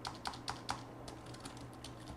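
Quiet, close typing on a Logitech K800 wireless illuminated keyboard: a quick run of soft, evenly spaced key taps followed by lighter scattered presses over faint background hum.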